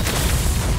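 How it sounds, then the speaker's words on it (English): A bomb explodes in a video game, a dense low boom that rolls on as a sustained rumble for just under a second, loud and close. "Bomb"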